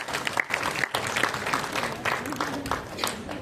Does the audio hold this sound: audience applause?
yes